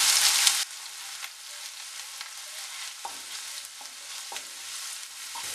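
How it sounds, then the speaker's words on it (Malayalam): Ginger fries in oil for a sweet and spicy pineapple pickle, making a steady close sizzle with periodic soft scrapes of stirring, after a brief louder burst at the start. "ഇനി ഇഞ്ചി ചേർത്ത് കൊടുക്കുക. നന്നായിട്ടൊന്ന് മൂപ്പിച്ചെടുക്കണം."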